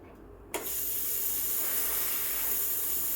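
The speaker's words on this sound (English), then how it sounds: "This way you can steam just like a barista and get really, I guess, silky smooth milk for latte art." Breville Oracle BES980 espresso machine steam wand frothing milk: after a quiet start, a sharp burst opens into a loud, steady hiss that carries on to the end, with no talking.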